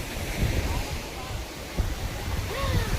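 Sea waves wash in at Devka beach, a close, steady surf roar with wind buffeting the microphone and a voice faintly heard over it.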